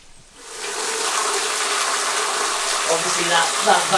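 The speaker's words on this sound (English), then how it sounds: "So I'm going to drain the pipe and just let it flow out of our ditch for now." Water gushes from a drained pipe of a small 1.5 kW hydroelectric system into a ditch, a steady close splashing rush that starts after a brief quiet moment and continues with surges.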